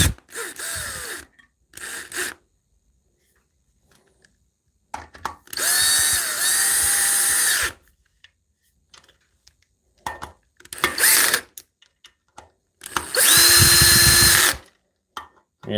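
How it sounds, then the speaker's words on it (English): A power drill whirs in several short bursts separated by silences, its pitch rising and dipping as it drives in screws while building a standing desk, with a few knocks between bursts. "always make sure you have the clutch on for your drill"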